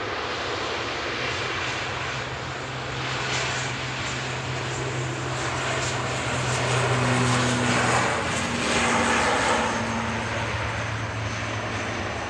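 An Aer Lingus Regional airliner departs Manchester Airport with a steady, broad engine roar heard from a distance, swelling slightly midway and continuing throughout without talk.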